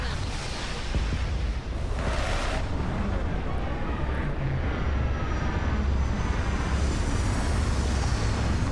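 Spaceship touching down in the Starfield video game, a steady broad engine roar with low rumble that holds loud throughout, with a brief swell of hiss early on and faint talk underneath.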